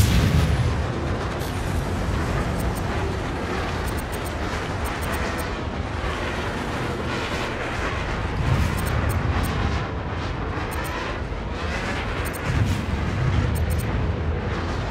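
Ship cannons fire in the space game Star Citizen, producing a continuous loud rumbling barrage of heavy booms with periodic swells, with no talking over it.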